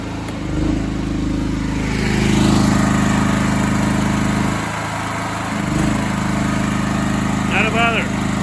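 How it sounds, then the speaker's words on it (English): A small portable generator drones steadily close by as it powers a kettle, the engine note rising and dipping slightly under the load, while someone talks over it. "there is no finer test of a generator than boiling a kettle"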